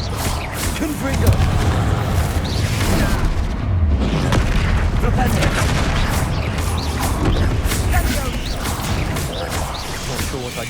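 Fiery spell explosions from the Hogwarts Legacy video game on PC, dense booming blasts and crashing debris that run almost continuously at loud volume, with a voice heard partly over the combat.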